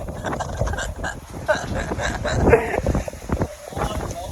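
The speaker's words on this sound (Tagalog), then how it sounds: "Grabe, sobrang lakas ng hangin, oh!" Strong, gusty typhoon wind roars and buffets the microphone continuously, with excited voices shouting over it.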